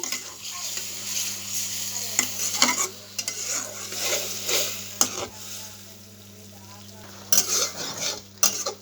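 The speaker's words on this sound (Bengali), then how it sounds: "এ পর্যায়ে দিয়ে দেবো সরিষা বাটা" Fish stir-fried in oil with mustard paste, a close sizzle broken by repeated metal spatula scrapes and clatters against the pan, quieting briefly before more stirring at the end.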